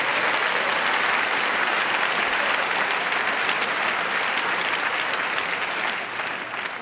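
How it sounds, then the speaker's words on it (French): Audience at a live comedy show breaks into full, continuous applause, a thick roar of clapping that stays strong throughout and eases slightly near the end. "Vous pouvez vous applaudir."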